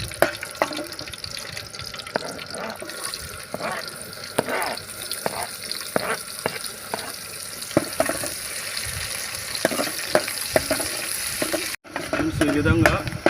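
Onions dropped into hot oil with curry leaves for a Telugu-style egg curry sizzle steadily up close, with stirring scrapes and a brief pause near the end.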